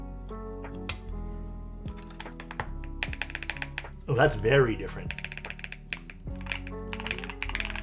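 Steady typing on a Mode Sixty Five mechanical keyboard fitted with milky yellow switches, crisp clacking keystrokes in uneven bursts close to the mic, with a voice briefly speaking over the clatter.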